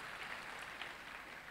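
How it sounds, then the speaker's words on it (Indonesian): Applause from a church congregation during a sermon, a faint, distant wash of clapping that stays even through a brief moment. "Beri tepuk tangan kemuliaan buat Tuhan."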